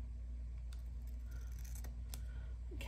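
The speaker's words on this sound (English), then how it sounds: "we need to cut a little bit off the top and the bottom to make it fit" Scissors snip through a paper insert to trim its top and bottom, giving a few quiet, sparse cuts close by over a low steady hum.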